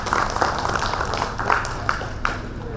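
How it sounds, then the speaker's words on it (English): An audience at a formal ceremony applauds an honoured guest before a memento is presented at the dais, a sustained, even roar of clapping with a few sharper claps standing out. "Give once again a round of applause for the sir."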